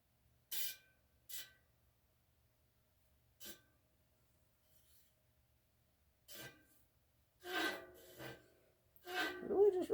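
A bicycle tire on a wheel truing stand scrapes where its seam flares out, giving brief, separate rubbing swishes at irregular intervals, quiet and close, without talk.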